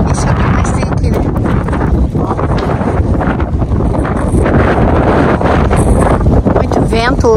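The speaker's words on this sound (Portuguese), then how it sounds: "Muito vento hoje." Strong wind buffets the microphone in a loud, constant roar outdoors in El Chaltén, with a voice faintly speaking under the gusts.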